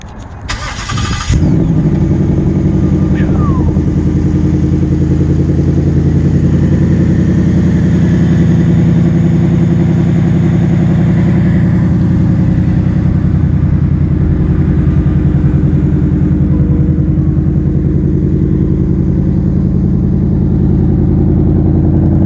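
A 2021 Ford Mustang Mach 1 V8 starts with a sharp crank and bark, then settles into a loud, close, steady idle with a deep throbbing rumble that holds for about twenty seconds without talk.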